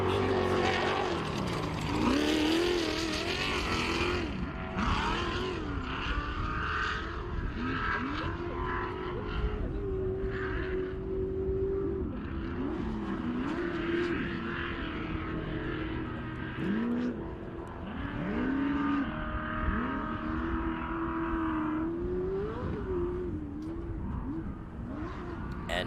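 Legacy race cars howl around the track during the 2022 State Line Shootout, engines revving, rising and falling as they pass, with loud, continuous layered engine tones throughout.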